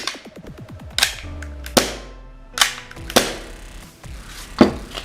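A Tokyo Marui magazine being fitted into a WE airsoft Glock 17, heard as a series of sharp plastic-and-metal clacks and snaps. About five distinct crisp clicks sound close up with short pauses between them.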